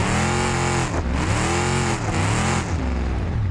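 A loud car engine in a driving simulator game revs and whines up and down in repeated surges as the car drifts through turns, with no talking.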